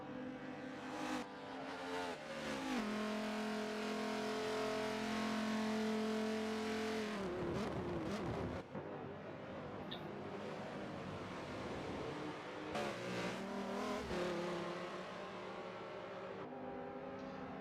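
Race car engines in the Daytona 24 Hours in a sim racing game, droning loudly and steadily with shifting tones, cutting out in brief gaps and rising again in sharp revs and gear changes as cars run close together.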